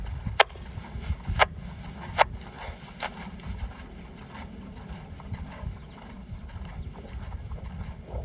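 Hooves of a horse cantering through flying lead changes thud in an irregular rhythm on soft ground, with a few sharper distinct strikes early on, moderately close under a steady breezy background.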